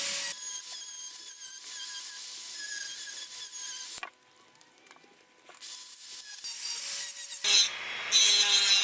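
Plastic being shaved and scraped by hand from a DIY hood for a DJI Mavic gimbal, trimming around a small vent hole, producing steady rasping strokes near and loud, with a brief quieter pause midway before the scraping resumes.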